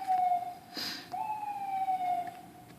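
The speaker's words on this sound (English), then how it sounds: "Whoop, whoop. That's the sound of the police." A distant siren wailing with a falling tone, faint against background noise, with a brief burst of rustling noise partway through.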